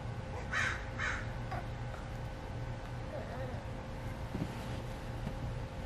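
Two crow-like caws ring out close together near the start, then the calls give way to a low background hum and soft wind noise with faint distant sounds.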